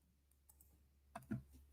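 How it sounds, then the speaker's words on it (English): Computer keyboard typing, a few quiet scattered key clicks followed by a brief louder cluster near the end, close but faint in a quiet room. "I'm just typing here"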